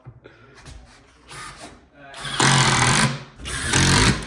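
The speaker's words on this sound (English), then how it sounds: "That is a perfect countersink." Countersink bit drilling into material while building a DIY skatepark, with loud broadband grinding bursts around 2.4–3.1 s and 3.6–4.2 s after quieter handling noise at the start.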